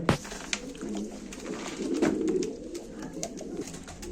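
Pigeons at a live pigeon auction coo and call close by, with a few sharp wing flaps or clicks and a soft cooing swell through the middle over a quiet room.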